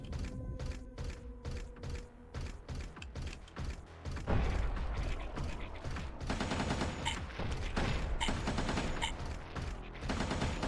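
Rapid bursts of ice bullets fire in the underwater mech game Codename: Oceankeeper, dense repeated clicks and cracks that thicken into a sustained, louder barrage midway with mechanical clatter throughout.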